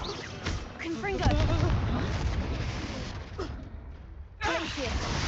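Booming Confringo blasting-spell explosions in the Hogwarts Legacy video game, heavy bursts over a continuous rumble of combat noise, with a sharp hit near the end and voices talking throughout.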